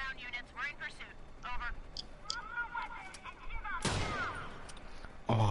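Sniper rifle gunfire in the Watch Dogs 2 video game: a single loud crack near the end, with game sounds and voices before it.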